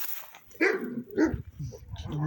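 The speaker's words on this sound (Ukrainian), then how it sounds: "Сусідські собаки." Neighbours' dogs bark outdoors near a garden in early spring: a few sharp barks and yelps come at irregular intervals, at moderate distance.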